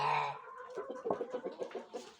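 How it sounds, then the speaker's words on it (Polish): A Leghorn hen clucks softly in a run of quick, low notes close by, after a brief higher call at the start. "Leghorn, kura."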